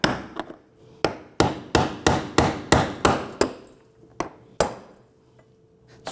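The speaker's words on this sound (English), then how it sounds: "We're going to go ahead and use our brass punch and we're going to find our locating ears or notches around the perimeter." A hammer strikes a brass punch to turn the fuel pump lock ring on a 2015-2020 Ford F-150 2.7L V6, a series of sharp metallic taps in quick bursts, loud and close.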